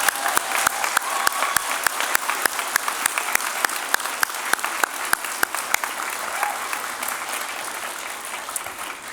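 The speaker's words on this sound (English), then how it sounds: "I hope you will join me in a round of applause for them as well." A convocation audience at a fall graduation ceremony applauds in a long, steady wash of clapping, with a few sharp, close claps standing out at a regular beat above the crowd.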